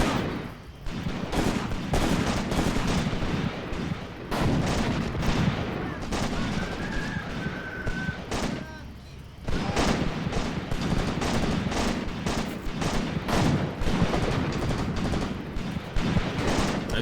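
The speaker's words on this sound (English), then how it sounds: "Good shooting." Dense gunfire in a World War II video game, with rapid rifle and machine-gun shots crackling almost continuously alongside explosions, loud throughout, with occasional voices.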